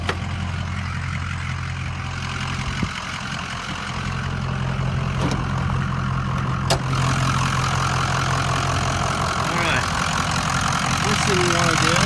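A 2004 Ford F250 diesel truck idles with a steady, deep rumbling clatter close by, growing slightly louder partway through, while someone talks over it.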